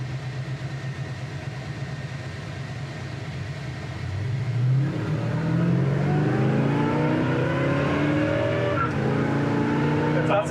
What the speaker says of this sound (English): I'm just gonna take it down to first and see if we can chirp the tires a little.